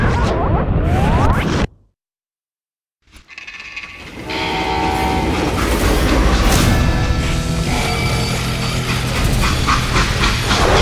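A freight train rolls along its rails in the Western video game Call of Juarez Gunslinger, with a steady heavy rumble, clanking wagons and a whistle-like tone, after a brief loud burst and a short silent gap.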